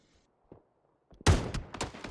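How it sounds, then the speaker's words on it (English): Gunfire in the PUBG battle-royale game, a few faint taps early on, then a sudden loud burst of shots with quick follow-up cracks. "Sounds like our neighbor is shooting them as well"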